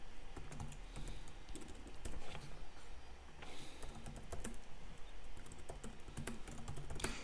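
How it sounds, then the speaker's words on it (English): Quiet, close typing on a computer keyboard, a steady patter of soft key clicks running continuously for several seconds with no voice. "I will type the answer into the chat."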